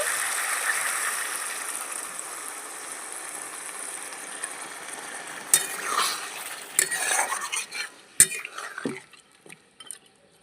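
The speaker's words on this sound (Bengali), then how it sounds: "মাথাটা দিয়ে ভালো করে কষিয়ে নেব সামান্য একটু গরম জল দিয়ে দিচ্ছি" A rohu fish head is stirred and sautéed in a pan with a little hot water added: close scraping and clinking of a utensil against the pan, soft at first, then a series of sharper knocks and scrapes in the second half.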